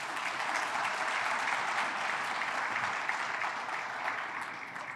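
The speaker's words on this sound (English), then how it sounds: "A round of applause to Jaipaul, please" Steady, dense applause fills a room of guests at a business brunch in Brampton, sustained and even throughout before fading slightly at the end.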